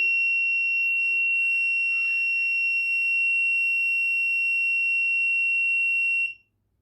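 A Raspberry Pi car theft alert buzzer sounds a steady, piercing electronic tone without a break for about six seconds when motion is detected, then cuts off abruptly, with faint low background hum underneath.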